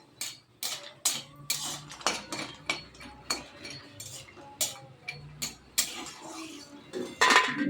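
Metal utensils clink and scrape against a pan as fried lentil dumplings are lifted out, a string of sharp irregular knocks about twice a second, close and fairly clear, with no talking.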